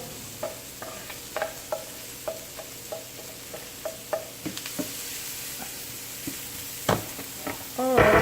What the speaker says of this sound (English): Just add the garlic and the onion and saute that